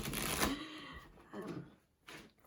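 Tarot cards are shuffled by hand in quick riffling bursts, a close crisp flutter followed by two shorter rustles.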